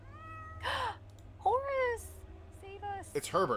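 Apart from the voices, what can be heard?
cat meowing in video game Hob's Barrow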